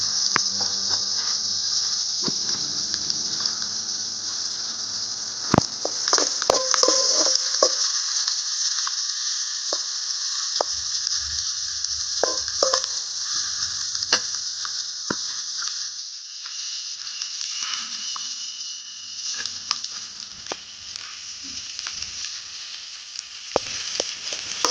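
Onion, garlic and green chili sauté in a hot pan while dried fish thokku is made, a long steady high sizzle with repeated sharp clicks and scrapes of stirring, close and fairly loud, no talking.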